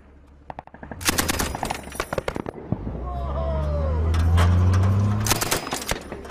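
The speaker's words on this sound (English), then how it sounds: "the Pathfinders insisted I learned how to use the commander's machine gun" Machine gun fire from a commander's position with British Pathfinders in Afghanistan: loud, close bursts of automatic shots in rapid rhythm, broken by pauses, over a rising engine rumble from a vehicle.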